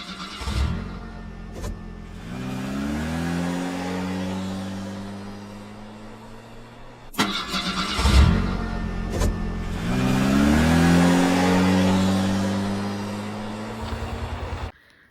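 A brother's new car revs its engine twice, each burst climbing steeply in pitch and then settling into a steady, close, loud idle hum, with no talking.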